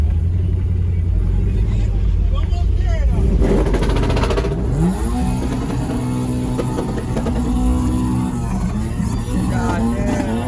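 5.3 iron block engine held on a two-step, a loud rapid crackling rumble with popping bursts up close, while people talk and shout over it.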